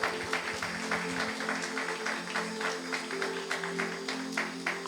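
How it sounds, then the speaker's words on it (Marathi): A church congregation claps along steadily in a regular rhythm over sustained organ-like tones, filling a worship service with moderately loud, even applause. "जरा जोरात टाळ्या वाजूयात,"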